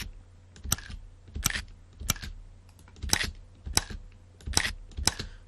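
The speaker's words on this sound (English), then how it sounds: "Basic button presses whenever you click something on the menu." Video game menu button presses: a quiet, steady series of about ten short, crisp clicks spaced roughly half a second apart, with no other sounds.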